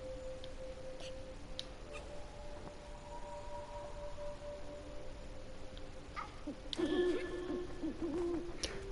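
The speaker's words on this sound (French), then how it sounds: "C'est quoi, c'est des checkpoints les hiboux là?" Owls hoot in the video game Never Alone, repeated soft calls at moderate distance over a constant windy background hiss.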